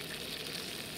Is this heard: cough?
no